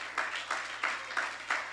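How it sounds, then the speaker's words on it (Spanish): Rhythmic clapping from a church congregation, about five evenly spaced beats pulsing through a quiet room, fairly faint and unaccompanied by speech. "denle un aplauso al Señor por eso"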